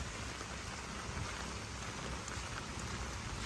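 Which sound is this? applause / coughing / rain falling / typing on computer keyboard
rain falling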